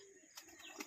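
Pigeons kept in an upper enclosure at a Sasan Gir resort give faint, distant coos, with a couple of soft calls rising briefly over a quiet background.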